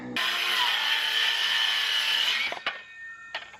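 A 10-foot wooden board cut for a shed foundation frame with a power saw, a loud steady whine for about two and a half seconds, then the blade spins down and a couple of sharp knocks of wood follow.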